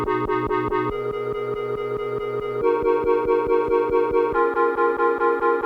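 Piano chords chopped by a Gross Beat half-repeat preset into rapid, even stuttering pulses, with chord changes every second or so, loud and alone.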